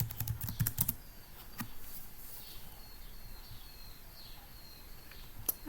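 A password is typed on a computer keyboard at an ICT lab workstation. A quick burst of close key taps comes first, then a few scattered clicks over a quiet room, with no speech.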